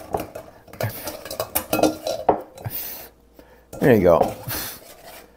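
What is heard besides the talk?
tomatoes being pressed through a manual food mill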